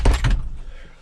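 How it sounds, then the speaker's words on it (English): A farm building door on a mountain bothy swings shut with a solid thunk and a second knock close behind, then a short fading rattle. "So, door closed."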